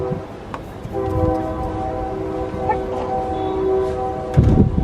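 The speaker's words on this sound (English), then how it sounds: "Now we got a train we got to listen to." A train passes near a bee farm where packages of bees are being installed. It is a loud, steady rumble with sustained horn-like tones, and the noise swells near the end. No one speaks.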